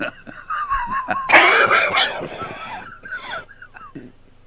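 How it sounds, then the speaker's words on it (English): A loud, harsh cough bursts out close by amid talking, followed by a few smaller coughs and murmured voices. "You made him cough."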